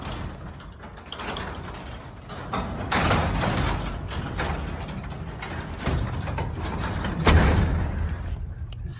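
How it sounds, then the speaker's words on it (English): Garage doors close with a mechanical rattling and grinding of gears and rollers that swells in the middle and ends with a firmer clunk near the end, with no talk over it. "let me show you how I close the doors"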